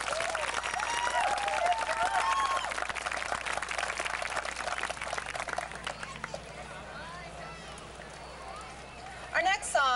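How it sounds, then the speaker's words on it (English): Applause from a Fourth of July audience at a Ste. Genevieve, Missouri municipal band concert, a broad crowd clapping that thins after several seconds, with talk audible over it. "another round of applause for Alicia"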